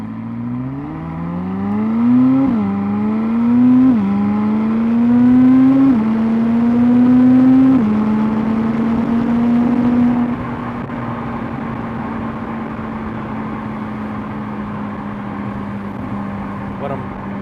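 A 2016 McLaren 570S driven hard in sport mode, its engine revving loudly through several rising pulls with gearshift steps, then settling into a steady cruising drone, close and strong.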